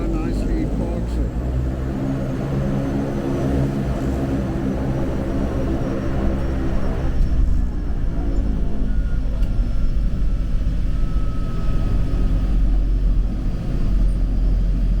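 A small floatplane on a flight between Vancouver and Nanaimo or Gabriola Island, its engine and propeller droning in a steady, loud low rumble with harmonic tones as it docks on the water, continuous throughout the clip.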